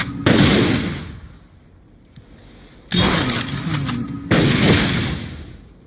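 Caitlyn's rifle headshot in League of Legends, Pool Party skin: three heavy, booming rifle blasts with ringing tails, evenly spaced, the first and last followed by lingering echoing decay, no talk.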